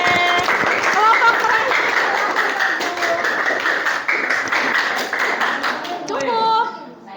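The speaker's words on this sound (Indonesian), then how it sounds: "Kasih tepuk tangan buat kelompok C" A classroom group claps for group C, brisk applause that builds and then fades out, with voices and chatter mixed in and talk near the end.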